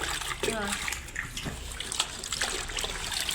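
Colocasia leaves being washed in water, with running, splashing water close by under someone speaking throughout.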